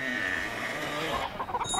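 Hens cluck and squawk close by in a Swiss German radio play, several birds overlapping in a busy, chattering burst against a farmyard background.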